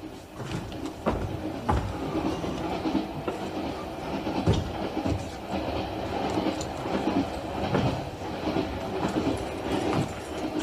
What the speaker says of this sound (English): Where does this train stop next?